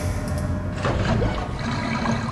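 Water drains away in Zork Nemesis, a loud, continuous gurgling rush like a flush that fills the whole short moment without pause.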